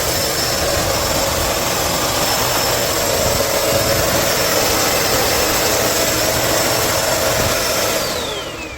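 A Vacmaster UB0302E bagged upright vacuum cleaner with two motors runs steadily at close range, a loud, even whooshing motor drone with a thin high whine, holding the whole time before easing off slightly at the end.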